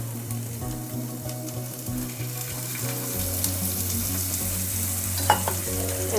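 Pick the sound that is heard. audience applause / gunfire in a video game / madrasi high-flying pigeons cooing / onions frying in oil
onions frying in oil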